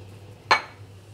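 A cooking pot set on the stove for boiling pasta gives a single short metallic clank, close and sharp against a quiet background hum.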